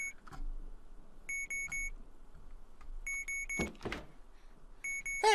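Electronic beeps sound in short triple bursts, bright and repeating at regular intervals, with soft thumps and handling noise between them in a quiet room.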